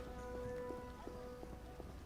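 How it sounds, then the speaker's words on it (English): Rain falls steadily in The Witcher video game, a soft continuous patter with scattered louder drops, heard alone without talk. "It's really raining."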